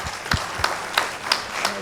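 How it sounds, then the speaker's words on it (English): Audience applause for a Paralympic silver medalist at a business-school panel, brief and fairly sparse, with a few distinct louder claps standing out above a softer clapping wash. "Another round of applause for her."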